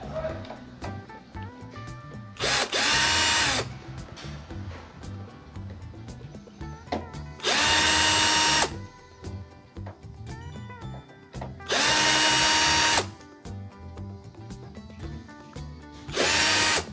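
Screws on an acoustic guitar's tuning pegs are loosened with a narrow screwdriver, heard as four short, loud whirring bursts separated by pauses, over steady background music.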